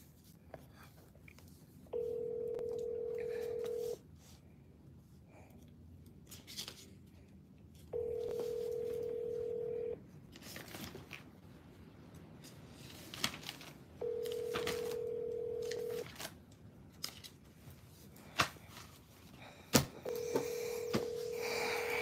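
Automated phone line at a charity office: four long steady tones recur about every six seconds, ringing on the call after a keypad press, with faint line noise between and no talk.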